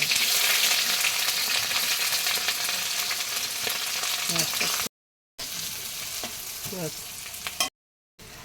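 Chopped onion frying in hot oil with three dried red chillies and five-spice seeds, a steady close crackling sizzle with a few stirring scrapes, briefly cut to silence twice.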